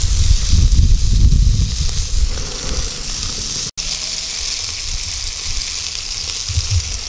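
Basque chorizos frying in a pan give off a loud, steady broadband sizzle with crackling spatter, continuous for the whole stretch apart from one momentary dropout near the middle; no voices.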